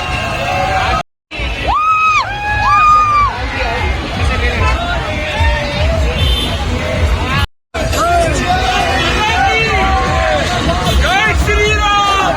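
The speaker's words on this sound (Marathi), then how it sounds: "अभी तर फुल जल्लोष करतोय" A street crowd celebrating India's World Cup win in Bandra, a loud near mix of excited yells, whoops and cheering voices over constant babble, with two brief dropouts.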